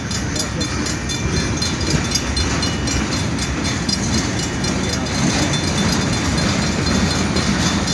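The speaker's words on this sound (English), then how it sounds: "we do have a westbound next. Come on, train" A westbound train rolls past on the railroad at M156 in Morenci, Michigan, giving a loud, steady rumble with rail noise close by and voices in the background.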